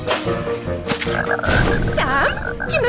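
A cartoon frog in a French animated fairy-family series croaks repeatedly, loud and close, with bouncy warbling calls and busy cartoon sound effects around it.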